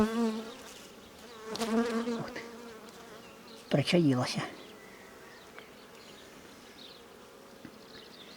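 Honeybees buzz steadily around a hive in the background while a person talks briefly in the foreground.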